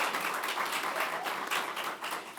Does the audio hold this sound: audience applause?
yes